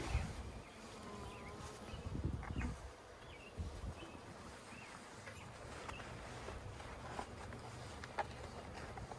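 A faint, continuous buzz of bees around a hive hums beneath low background noise, with occasional soft rustles and a few brief higher chirps.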